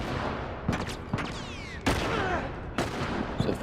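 Repeated gunshots ring out from AI companions in The Last of Us Remastered, a series of loud sharp cracks spaced about a second apart over a dense, noisy game soundscape.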